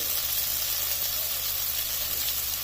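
Mutton keema bhuna-frying in a pan gives a steady, close sizzle with a dense hiss that holds at one level throughout, and no voices over it.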